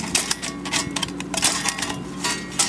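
Thin metal panels of an Emberlit camp stove are slid into grooves and bent into place, giving a quick series of light metallic clicks and ticks close by.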